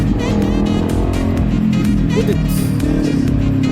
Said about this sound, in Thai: ปกติเส้น X10 เสียงท่อเดิมมันดังขนาดนี้เหรอครับเนี่ย